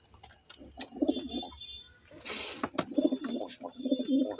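Giribaz pigeons, a male and a female pair, cooing close by in repeated low throaty phrases, with a brief rustle or flap in the middle.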